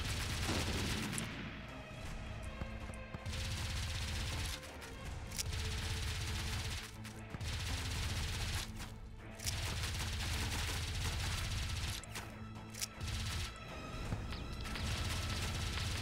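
Heavy gunfire from huge guns in WarSphere rumbles on almost without a break, with dense booming volleys, crashes and brief lulls, all loud and close.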